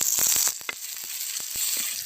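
Shallots, curry leaves and tomato sauté in hot oil for a village-style country chicken curry. The close, steady sizzle and crackle comes with a few soft stirring knocks from the pan and no talking.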